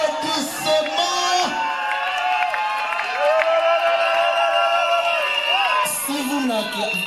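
A lively crowd at a customary wedding ceremony cheers, whoops and shouts, with scattered applause and excited voices overlapping throughout.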